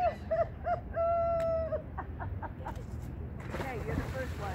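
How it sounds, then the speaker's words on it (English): Seagulls near a cold-water plunge spot give several clear, loud, drawn-out laughing calls in quick succession over a steady low rumble of wind and water. "Seagulls even laughing at you."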